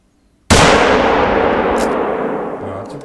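A Range Master .338 hunting rifle fires once in theHunter: Call of the Wild, a sharp loud crack that rolls into a long fading outdoor echo after a short silence.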